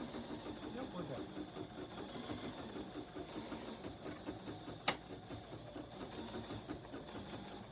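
A Bernina embroidery machine runs steadily, stitching with a fast, even mechanical whir and patter at a moderate distance, with one sharp click midway and no break in the rhythm.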